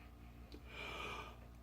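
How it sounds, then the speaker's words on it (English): A person's drawn-out yawn, a breathy rising exhale swelling in the middle and tapering off, heard faintly and close over a steady low background hum, with no talking. "why am I yawning?"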